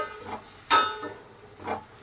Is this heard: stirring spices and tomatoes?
yes